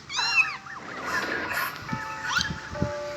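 A cat meows several times, close and clear, with rising and falling calls at the start, more meows later, and some background noise and faint voices.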